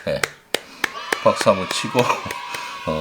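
Sharp hand claps ring out about a dozen times at an uneven pace in a room, mixed with a person speaking between and over them.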